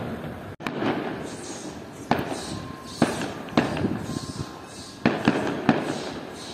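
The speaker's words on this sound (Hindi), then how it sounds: "पटाखे फूट रहे" Firecrackers burst in a series of sharp cracks and bangs amid the middle of Faridabad railway station, with steady crowd and platform noise underneath between the pops.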